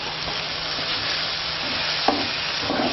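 Baba ganoush paste scraped off the bottom of a hot pan, a continuous close scraping and stirring rasp over a soft sizzle, with one sharper knock near the end.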